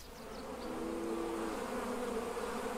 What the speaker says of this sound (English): we're going to come over and use our busy bees